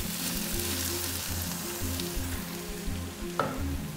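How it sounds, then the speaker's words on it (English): Cabbage frying in a pan, a steady close sizzle and crackle running throughout with a faint stir or scrape near the end and no talk. "I start by cooking my cabbage first because it takes quite long to get soft"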